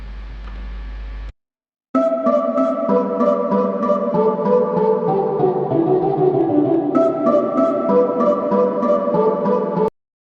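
A sampled tone played like an instrument, a sequence of notes at shifting pitches with a rhythmic pulse, after a brief pause near the start.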